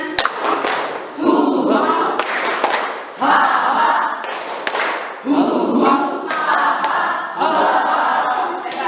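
A school class performs the Tepuk Indian clapping chant, loud rhythmic bursts of many hands clapping in unison with thumps and chanted voices, breaking into several grouped phrases separated by short pauses.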